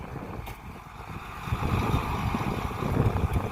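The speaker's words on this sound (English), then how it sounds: "It's really, really windy." Steady, heavy wind roars and buffets close by on a Kansas wheat field during harvest, with a low rumbling rush that swells louder toward the end, no voices.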